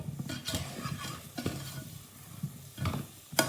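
Pasta sauce with butter is stirred in a pan, with repeated scraping strokes of a utensil over a soft sizzle, close and in an uneven rhythm.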